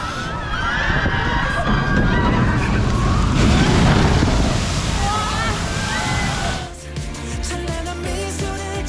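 Water rushes through loudly in a steady, churning flow. A crowd shouts and cheers over it before the sound changes abruptly near the end.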